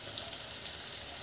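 Besan pakoda frying in oil, a soft, even sizzle with scattered tiny pops and crackles, close but fairly quiet and continuous with no talk.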